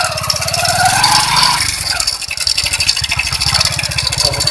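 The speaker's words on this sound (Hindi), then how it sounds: "चंदन बाइक राइड कर रहा है देख सकते हैं आप" Motorbike engine running steadily during an evening ride in Bilaspur, Jharkhand, a close, loud rattling putter with regular low pulses throughout, briefly easing then picking up again.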